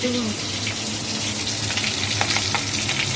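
A fish head fries in hot oil, making a loud, constant, close-up sizzle that runs through the whole stretch, with faint voices in the background.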